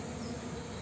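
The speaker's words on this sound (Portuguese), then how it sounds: "muita abelha mesmo" Stingless bees swarm around a crowded hive box in an urban meliponary, a steady, close buzzing drone with no break and no voices.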